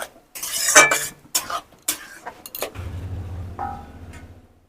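Semolina being stirred in a pan with metal scraping and clinking sharply in bursts, then a low simmering hiss as it cooks, no voices.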